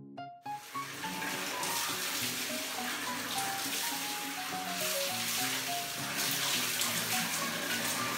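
Water pours steadily from a tap for a child's shower, a continuous close hiss that runs the whole time, with faint tonal sounds in the background.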